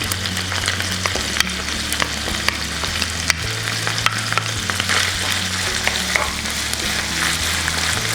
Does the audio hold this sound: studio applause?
no